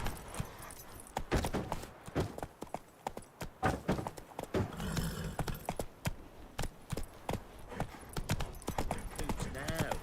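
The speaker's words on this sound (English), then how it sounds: "Run, Roach" Horse hooves clip-clopping in a rapid, irregular run on a road in The Witcher 3, with sharp close hoof strikes and some tack jingle, under the game's ambient sound.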